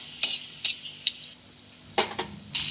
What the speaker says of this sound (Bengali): এই যে লঙ্কাটাও একটু ভালো করে ভাজা হয়ে গেলে